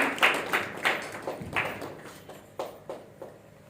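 Sharp bursts of audience clapping come in uneven waves, each swelling briefly then fading, with short gaps between.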